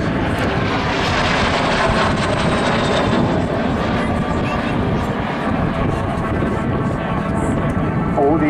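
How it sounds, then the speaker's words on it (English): de Havilland Vampire T-55 and FB-52 jets flying with a MiG-15 at the Southport airshow 2018 give a loud, sustained jet roar. An announcer talks over it the whole time. "I've got here a Vampire T-55 two-seater and a single-seat FB-52 joining the lengthy MiG-15."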